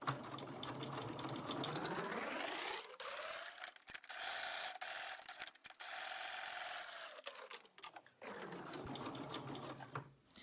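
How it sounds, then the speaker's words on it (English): A sewing machine stitching a square fabric coaster, running in steady whirring bursts with short pauses between seams, close and fairly quiet. "You'll start with a back stitch, sew up to the corner, and once you get there, you can just lift your presser foot and pivot."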